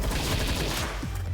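A rapid burst of gunfire from Palworld rattles loudly and continuously across a brief moment, shots blurring together in close succession.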